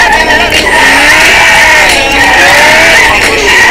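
A Ferrari 458 Italia drifting, its tires squealing loudly and continuously under the strained engine note, very close and intense for the whole stretch, with no pauses.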